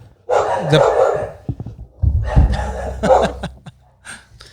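Dogs in a house give a few sharp barks and muffled woofs in bursts, with brief human voice sounds in between.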